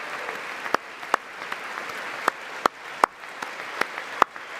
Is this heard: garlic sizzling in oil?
no